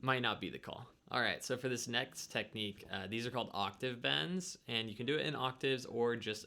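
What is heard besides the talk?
No everyday noises stand out.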